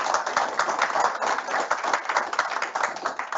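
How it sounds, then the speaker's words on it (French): Audience at an award ceremony claps for a winner: brisk, fairly close rhythmic applause, some claps falling into a steady beat, sustained throughout. "on peut vous applaudir."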